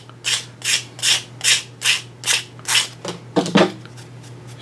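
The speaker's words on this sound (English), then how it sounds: "the sandpaper was kind of pulling it out of the hole, so just do it ever so lightly" Sandpaper rubbed by hand over concrete filler patched into a hole, a steady series of about ten short rasping strokes, close and evenly paced, with a low constant hum beneath.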